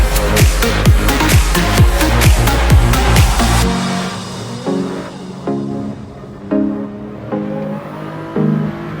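Supercharged 2024 Dodge Durango SRT on a Whipple-boosted tune, a loud rapid engine burst with gear-change pulses at first, then settling into a lower rumble with periodic surges as it drives on.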